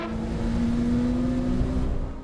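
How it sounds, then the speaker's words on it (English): A bunch of race cars sweeps past at Monza during a four-hour endurance race, a loud, sustained engine drone with a steady whining pitch that holds, then begins to fade. "big bunch of cars coming by as well."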